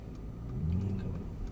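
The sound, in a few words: Mercedes AMG car driving on track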